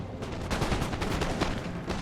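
Dense musket volleys and cannon fire crackle from a Napoleon: Total War battle, a rapid, loud, continuous barrage of overlapping shots with no voices.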